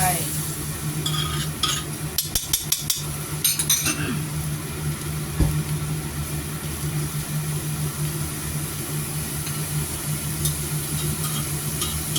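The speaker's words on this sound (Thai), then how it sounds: "ผัดเลยนะคะ เดี๋ยวขอเวลาผัดแป๊บนึงจ้ะ" Curry paste with pounded fingerroot and saba fish stir-frying in a pan for a Thai coconut-milk curry sauce, with a steady sizzle, a quick burst of spatula scrapes and clinks early on, then an even, continuous frying hiss.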